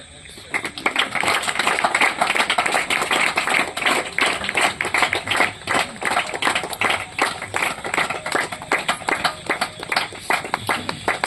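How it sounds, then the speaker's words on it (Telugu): Dense, steady clapping from a crowd at a Sunday school New Year prize-giving runs nearly the whole time, many hands overlapping into a continuous patter, with a few voices mixed in. "చప్పట్లు తగ్గిపోయాయి."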